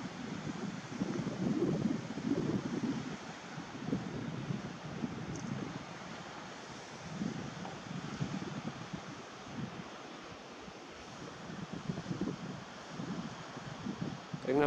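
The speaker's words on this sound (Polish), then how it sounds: "Nie wiem, czy dobrze mnie będzie słychać, bo wieje wiatr" Gusty wind buffets the microphone with low, rumbling roars that swell and fade throughout, loud and close, with no clear talk over it.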